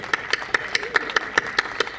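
About a dozen sharp hand claps land in an even, steady rhythm close to a microphone, each one crisp and bright.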